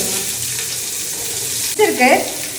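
Chopped onions hit hot oil for chicken biryani, giving a steady, even frying hiss that swells briefly near the end, when a short voice-like sound cuts in.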